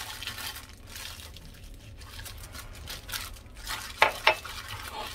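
A kohlrabi salad being mixed by hand with salt, sugar, lime, fish sauce, chili and garlic: soft, continuous stirring and rustling, with two sharp clinks near the end.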